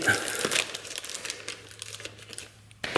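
Close plastic bag crinkling and rustling during electrical socket installation, continuous soft crackles with a couple of sharper crunches at the start and end.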